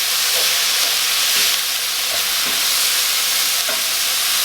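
Ground turkey sizzles loudly in avocado oil for a teriyaki bowl, a dense steady hiss close up, with occasional light scrapes of a utensil breaking up the meat.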